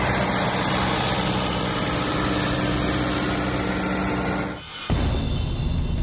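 A tractor engine runs in a field on a farmhouse property in Panvel. The steady, droning engine noise holds, dips briefly, then carries on at the same level.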